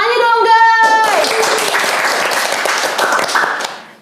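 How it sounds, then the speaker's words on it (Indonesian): Enthusiastic applause from a podcast studio audience, a dense wash of clapping that swells briefly after a short musical sting and then fades out. "Tepuk tangannya dong guys."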